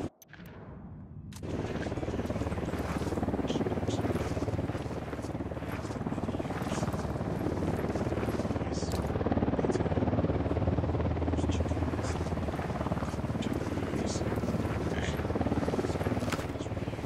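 Military helicopter from the game Ghost Recon closing in during an ambush, a steady loud rotor roar that swells and holds under dense gunfire and battle noise, with voices talking over it.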